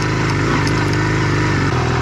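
A motorcycle engine chugs steadily at low speed on a rough, steep, fairly dry dirt track in Khao Kho, Thailand, with a loud near drone and light clatter throughout.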